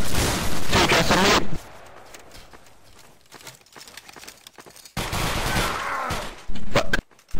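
Line infantry volley fire in Battlegrounds 2, a musket-era multiplayer linebattle: loud bursts of massed gunfire open and close the stretch, with a quieter gap between.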